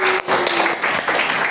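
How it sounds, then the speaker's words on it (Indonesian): A classroom audience claps for a student group after its presentation, a short burst of close, dense applause that carries on steadily throughout. "Kita beri aplaus dulu untuk kelompok"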